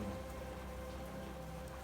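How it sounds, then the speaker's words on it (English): Steady rain falling at night around a camp on an Arizona Trail thru-hike, a continuous close hiss with no voices. "But it's been raining"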